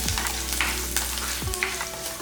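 Garlic cloves and curry leaves frying in hot oil for a tamarind vatha kuzhambu, a steady close sizzle with a few stirring scrapes and no talk.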